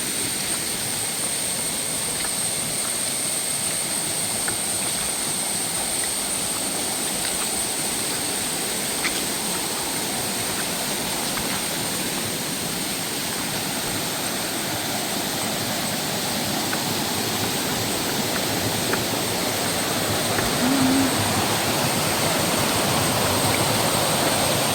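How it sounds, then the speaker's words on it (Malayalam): A waterfall somewhere below a hillside path sends up an even, unbroken wash of rushing water, moderate in level and distant, continuing alone without talk. "വെള്ളച്ചാട്ടം അവിടെ"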